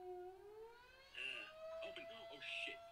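A siren alarm in the Roblox game Interliminality rises in pitch, then holds a steady electronic wail throughout, with a person talking excitedly over it.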